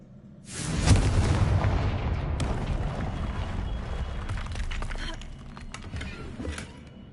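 A Confringo blasting spell explodes in a wizard video game, a loud sudden burst that rolls on as a sustained rumbling roar with scattered crackles of debris.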